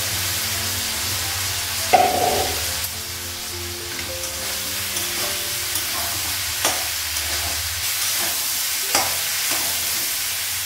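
Soybean and tomato fry and get stirred in a pan, giving a steady sizzle with scraping stir strokes and a few sharper clinks at intervals. Nobody speaks.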